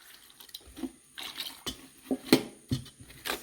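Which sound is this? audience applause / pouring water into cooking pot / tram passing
pouring water into cooking pot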